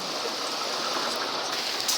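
Rain falls outside during a summer storm, a dense, even hiss that stays constant and fairly close for a couple of seconds, with no voices.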